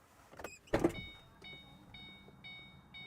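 A car door thunks open with a short mechanical clatter, followed by a repeating electronic keys-in-ignition chime beeping steadily in a quiet space, in the video game Skate 3.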